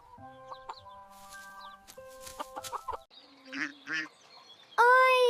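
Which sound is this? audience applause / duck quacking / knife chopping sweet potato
duck quacking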